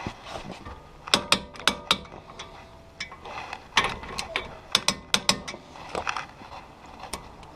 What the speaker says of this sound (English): you're going to torque these 2 bolts to 40